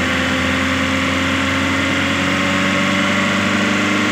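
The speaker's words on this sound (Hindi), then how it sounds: "अब देखो इसका एक्सीलेटर ऑटोमेटिक तेज होता जा रहा है" A Maruti Eeco van's engine runs steadily and loudly at close range, holding a constant hum with a strong low throb throughout as the throttle is opened.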